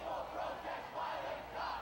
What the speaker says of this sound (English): You can hear the crowd chanting, "Peaceful protest, violent cops."